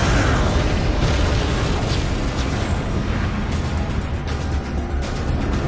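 Energy weapons fire from a sci-fi spaceship striking a target ship, heard as dense, loud continuous rumbling blasts and bursts filling the whole stretch with no talk over it.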